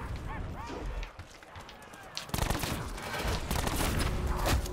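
Rapid bursts of gunfire in Black Ops 4 Zombies on Xbox One X, firing at zombies. Lighter shots come first, then a dense, loud, continuous barrage from about the midpoint on.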